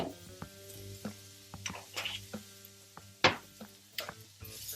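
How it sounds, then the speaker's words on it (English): Tofu frying in a pan with turmeric gives a soft, steady sizzle broken by scattered clatters and scraping stir sounds, close and moderately loud, with no talking. "And we're gonna fry this."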